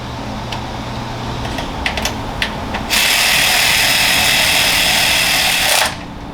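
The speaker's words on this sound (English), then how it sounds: "Just grab our 9th ratchet." A ratchet tightens a bolt on a built 6L80E transmission: a few sharp clicks, then a loud, steady mechanical whir of about three seconds that stops abruptly, close up with no talking.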